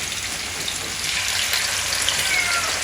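A fish head sizzles in hot oil coated with a special spiced masala, a steady, dense crackling hiss that stays close and fairly loud throughout, with no voices over it.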